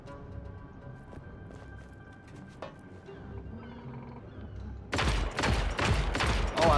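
Mounted guns fire in Just Cause 3, first low background game rumble, then from about five seconds a loud, dense burst of rapid gunfire with heavy booms that continues to the end.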